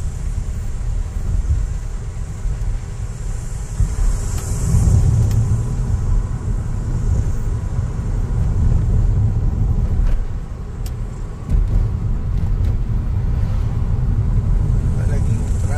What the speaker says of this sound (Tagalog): Palaging truck sa likod.